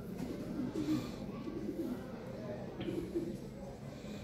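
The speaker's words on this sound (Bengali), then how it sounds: "খুবই ফার্স্ট ক্লাস কবুতর" Lahore siraji fancy pigeons coo softly and repeatedly in a loft, faint and low, under someone talking.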